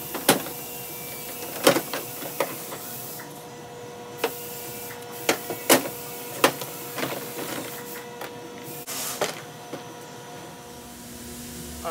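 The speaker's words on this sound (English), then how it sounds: "just go ahead and pull your bumper off now." A 2017 Toyota Camry rear bumper is pulled free of its clips, giving a series of scattered sharp pops and snaps over a faint hissing background, with no talking.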